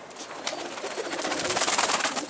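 Pigeons coo softly in a cluster on a rooftop, their low murmuring calls overlapping with light fluttering and rustling nearby.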